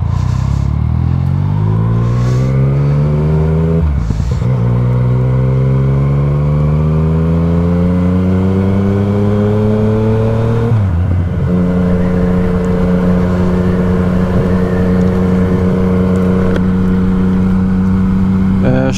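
A 2018 Yamaha MT-09 motorcycle accelerates hard through several gears, its engine note climbing steadily in pitch, dropping at each shift and climbing again, loud and close for the whole run.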